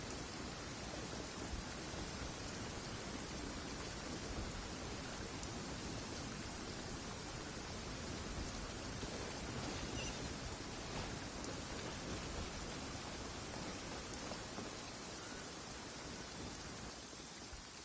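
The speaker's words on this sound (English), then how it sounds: "Quite a downpour." Steady, dense heavy rain in the video game Genshin Impact, pouring without a break, a constant loud hiss filling the whole stretch with no voices.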